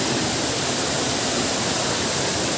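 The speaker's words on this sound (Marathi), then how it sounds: "इथे धबधब्याचा आवाज खूप मोठा येतोय" Loud waterfall at Katalkada near Rajapur on the Mumbai–Goa highway, a dense unbroken roar of falling water filling the whole clip, close and steady with no voices over it.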